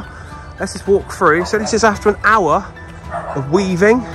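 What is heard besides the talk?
dogs barking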